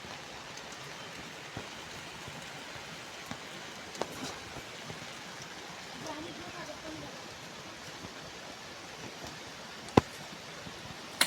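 Steady rain falls outside a rural shed being filled with firewood during the monsoon, a soft even patter with occasional sharper drops and knocks, fairly faint and continuous.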